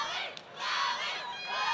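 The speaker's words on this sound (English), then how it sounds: "we're seeing and hearing is a really vocal crowd" Loud, vocal crowd at a corporate women's boxing fight, shouting and cheering in swelling waves with a brief dip before rising again, close and dense.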